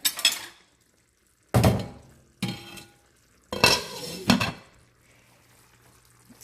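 Stuffed cabbage rolls cook in a covered pot, with several short bursts of metal clatter from the lid and utensils separated by quiet gaps, then a low, steady simmering hum.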